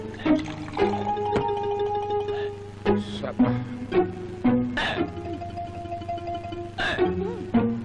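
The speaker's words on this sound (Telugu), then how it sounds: "ఎవరికి ఎక్కిళ్ళు?" Sharp, repeated hiccups from a person in a comedic film scene, popping out at irregular intervals over a steady background hum.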